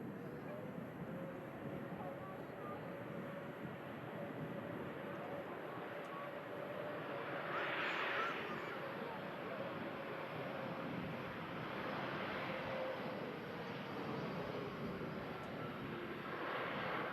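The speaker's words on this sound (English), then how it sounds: "Air France, A220 just arriving in from Paris." An Air France Airbus A220 arriving from Paris at Manchester Airport makes a steady, distant jet roar that swells slightly and then holds, with a faint hiss of wind throughout.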